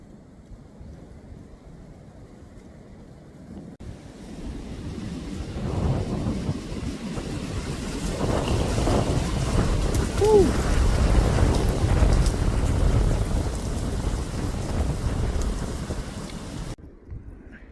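Strong wind blows from the west by the sea, a broad roar that swells from quiet to a loud, steady rush before cutting off, with a voice faintly heard at moments.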